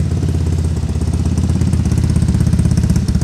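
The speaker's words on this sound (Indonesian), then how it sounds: "Ini adalah bunyi knalpot dari Polini Cobra." A modified Vespa Sprint scooter with a Polini Cobra exhaust idles loud and throaty, its fast pulsing putter steady and close throughout.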